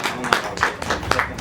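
Audience applause at a multi-event award function, a short burst of close, uneven hand claps of moderate loudness.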